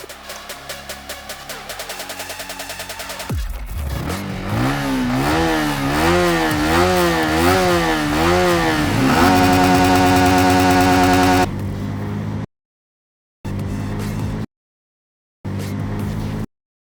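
A Yamaha XSR 155 motorcycle engine under way while riding: a buzzing, raspy single-cylinder note that climbs and falls through repeated rev swings, close and loud, then cuts in and out in short bursts near the end.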